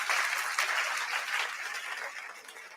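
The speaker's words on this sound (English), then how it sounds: "Clap yourselves." A crowd applauds steadily for a few seconds, a dense wash of clapping that gradually fades.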